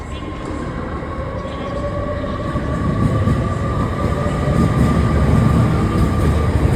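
TransPennine Express train pulling away from Darlington station bound for Liverpool Lime Street, a steady low rumble of engine and wheels swelling gradually with a faint sustained squeal, heard close on the platform.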